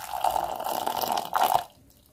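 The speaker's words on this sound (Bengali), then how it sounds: "এবার আমি চিনি আর দুধ যেটা আমি একসাথে গরম করে ফুটিয়ে নিয়েছি সেটা ঢেলে দেব।" Warm milk heated with sugar is poured onto Horlicks powder, making a close, steady liquid stream for about a second and a half that swells once before stopping into quiet.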